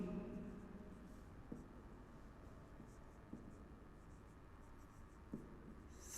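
Chalk or marker scratches across a board during a history lecture in a classroom, faint intermittent strokes with a few light taps, heard alone against a low room hiss.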